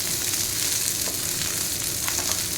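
Onion pulp frying in a pan, a steady close hissing sizzle that runs unbroken, with faint stirring ticks and no voices.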